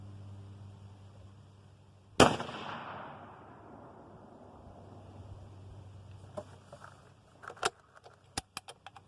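A single sharp crack from a 30-06 rifle firing a handloaded round, fairly distant and quick to decay, followed by faint clicks and small knocks.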